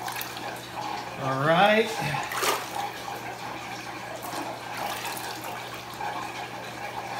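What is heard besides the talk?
water squeezed out of dirty sponges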